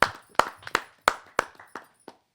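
Scattered claps from a small audience welcoming a poet to the stage at a Hindi kavi sammelan, about eight distinct sharp claps spaced irregularly and fading out, with no talk.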